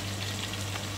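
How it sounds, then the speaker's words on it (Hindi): Onions frying in a pan with a steady close sizzle and crackle for about a second, with no voices. "लाइट पिंक होने तक फ्राई कर देंगे प्याज को"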